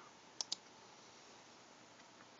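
Sharp, faint computer mouse clicks, two close together then one more after a pause, each a brief tick over a quiet background hiss while text is selected on a computer screen.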